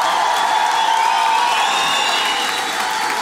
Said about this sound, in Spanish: Aplausos para Mex, por supuesto.